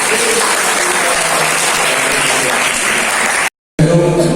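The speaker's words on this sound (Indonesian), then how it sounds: "berikan tepuk tangan yang paling meriah." A crowd gives loud, sustained applause welcoming a speaker, thick continuous clapping that cuts out abruptly for a moment before resuming.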